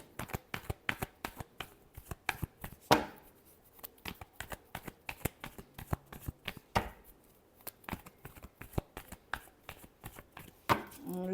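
Tarot cards being shuffled by hand in a long run of quick, crisp riffling flicks and slaps, close and fairly loud, with a few sharper bridge-like bursts and no talk.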